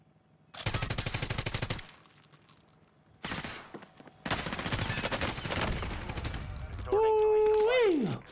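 A PKM light machine gun in a Warzone match, fired in long sustained bursts broken by short pauses, loud and close, ending in electronic game tones.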